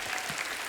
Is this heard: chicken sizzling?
no